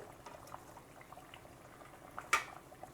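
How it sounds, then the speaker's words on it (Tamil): A pot of mutton curry with potatoes bubbles and simmers quietly up close, with small irregular pops and one louder bubbling burst near the end; no one speaks. "நல்லா கொதிக்குது."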